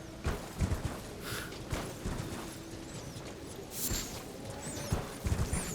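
Horse hooves clip-clop in Elden Ring, a run of loud, close, uneven beats over a steady rushing game ambience, with no talk.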